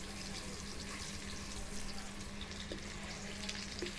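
Chunks of taro root frying in a pan give a steady, faint hiss of sizzling oil throughout, with a couple of small clicks from stirring, close and low in level.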